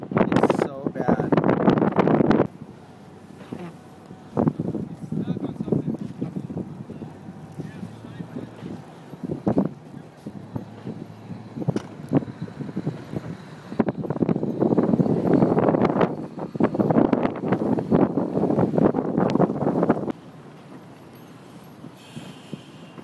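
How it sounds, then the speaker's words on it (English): Strong wind gusting hard through a Minnesota blizzard during a severe December 2010 winter storm, roaring in broad bursts against the microphone with calmer gaps between, while a person talks over it. "It's really windy."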